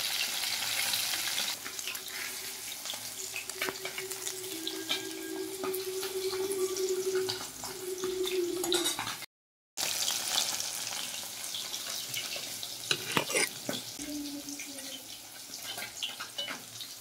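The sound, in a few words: fish pieces frying in oil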